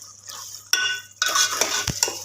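Whole red and green chillies go into a pan of oil-separated keema masala and are stirred, bringing a sizzle and the clatter of a spoon scraping the pan in short, close bursts.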